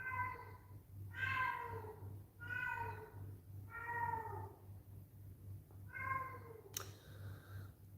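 A cat meows five or six times in drawn-out, rising and falling calls spaced about a second apart, fairly close, over a steady low electrical hum, with a short sharp click near the end.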